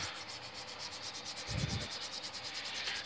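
A razor blade scrapes across an engine block deck surface in quick, rhythmic rasping strokes, close and steady, with a slightly heavier scrape midway and no voices.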